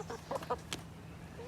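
Several chickens in a backyard chicken yard give short, faint clucks and soft calls, a few quick notes clustered together and then a brief trailing cluck.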